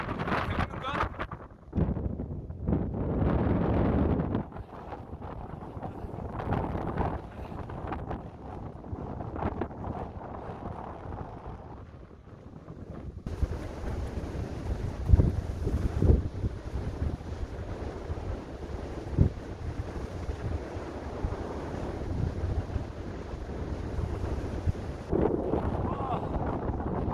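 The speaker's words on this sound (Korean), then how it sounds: "와, 태풍급 바람이다." Typhoon-strength wind roars across the microphone on the Seonjaryeong mountain trail, gusting in loud buffeting surges with brief lulls. A person talks intermittently beneath the blustering.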